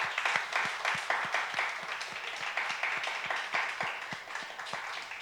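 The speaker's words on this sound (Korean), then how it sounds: "우리 축복의 통로를 우리 박수로 격려해 주시기 바랍니다." A church congregation at a late-night Friday prayer meeting claps in a sustained round, with steady mixed hand claps and faint rhythmic thumps throughout.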